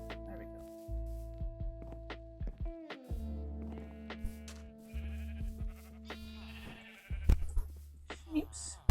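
Sheep in the Minecraft video game bleat repeatedly, several short nasal calls in quick succession over a looping game music bed, while a person talks alongside.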